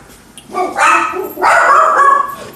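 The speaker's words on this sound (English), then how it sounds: "sorry about all the barking." A dog barks loudly and close by in a home kitchen during baking, two separate bursts of sharp, excited barks with no talking over them.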